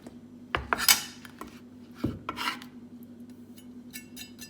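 A spoon scrapes and clinks against a bowl while chickpea salad with fresh coriander is tossed, a few sharp knocks early on followed by softer intermittent rubbing, close up and without talk.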